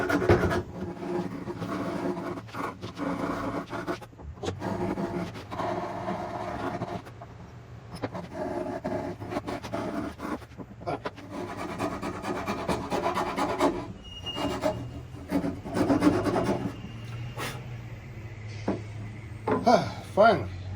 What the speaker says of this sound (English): Nice golden rasp here,